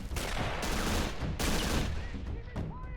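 An RK-47 rifle fires in sustained, loud bursts of plastic-army gunfire during an Army Men capture-the-flag battle in an arena, with rapid cracks layered over a dense rumble and a few scattered later shots.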